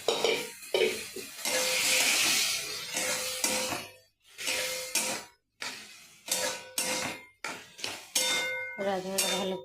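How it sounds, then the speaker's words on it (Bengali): Boiled rajma being stirred and fried with spices in a pan, a spoon scraping and clanking against metal in repeated bursts over a soft sizzle, with short pauses between strokes. "রাজমাটা ভালো করে কষিয়ে নেব।"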